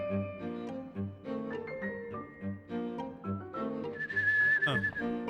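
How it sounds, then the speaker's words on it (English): A character whistles a wavering melody in the video game Rule of Rose, clear and fairly close, a run of short sustained notes rising into a higher trill near the end, with no talk over it. "he's whistling"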